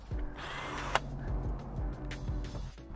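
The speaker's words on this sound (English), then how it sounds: "take a step bit, drill through here" A step bit drills through the wall of a cargo trailer under RV-build conditions, giving a steady, loud, close whirring grind with the motor's pitch wavering over three seconds, one sharp click near the start and no talking.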